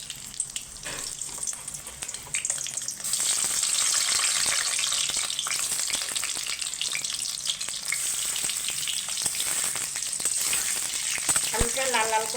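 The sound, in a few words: potatoes frying in hot oil in a wok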